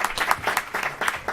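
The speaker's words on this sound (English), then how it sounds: "I'd like to have everyone give you all a round of applause" Audience applause for staff at a Kern Council of Governments meeting: a steady patter of clapping from a room of people, moderately loud and continuous with no talk.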